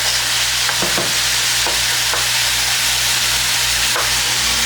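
Pork cooking in a pan gives off a steady, close sizzle and frying hiss, with a few soft stirring scrapes now and then and a low hum underneath.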